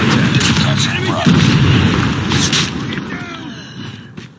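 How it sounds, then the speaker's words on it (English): Airstrike explosions in the Call of Duty Mobile video game land as a run of heavy, rumbling booms, loud and close, rolling together over a couple of seconds before fading under continuing battle noise and game voice callouts. "Friendly airstrike incoming"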